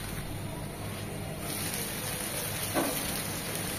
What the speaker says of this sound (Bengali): দুই থেকে 3 মিনিট বেগুনগুলো মশলার সাথে কষিয়ে নেব।